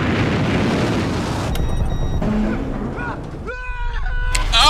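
Missile explosions in a TV episode give a heavy rumbling boom with broad noise that fades out, followed by sharper metallic bursts and whines near the end.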